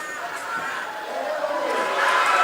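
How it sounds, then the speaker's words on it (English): Crowd of school kids at a weightlifting competition in Samoa cheering and murmuring for a champion lifter, a steady, fairly loud wash of voices that swells toward the end. "And the crowd acknowledges these school kids are in awe of the strength of this guy."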